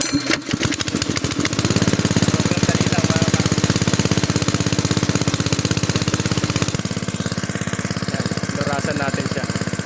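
A small farm engine for drip irrigation chugs loudly and steadily nearby with a rapid, rough knocking rhythm after a sputtering start.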